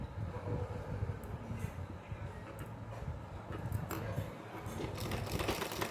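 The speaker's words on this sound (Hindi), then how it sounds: "और इस तरह से सिलाई लगा देंगे" A sewing machine stitches a small doll's choli for a Laddu Gopal dress, running in steady rhythmic bursts with a dense mechanical whir and light ticking, close and moderately loud throughout.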